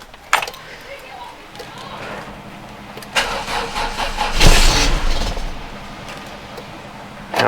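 A Volvo 480 engine cranks, catches briefly with a rising roar, then falters and cuts out, heard up close alongside jangling keys and clicks.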